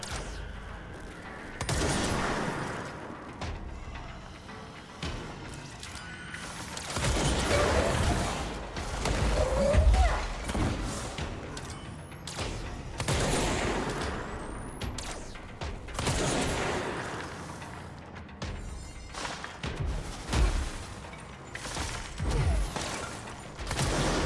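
Enemy gunfire aimed at the player in the action video game Control, irregular bursts and impacts recurring across the stretch amid mechanical clatter and crashes, fairly loud and close with no talking.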